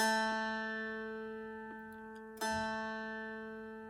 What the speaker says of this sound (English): This middle string needs to be tuned to A.